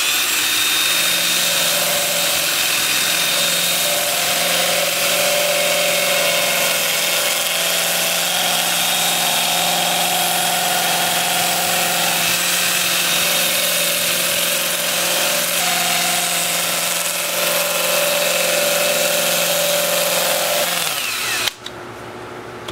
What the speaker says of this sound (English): I'll switch to my 2-inch disc starting at 80 grit. I'll have the lathe spinning forward at about 400 RPM